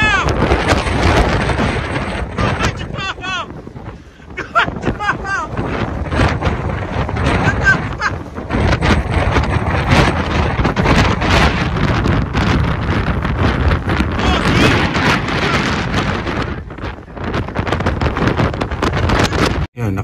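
Strong wind roars through a snowstorm in Canada, buffeting the microphone in loud, gusting rushes that continue without a break for about twenty seconds.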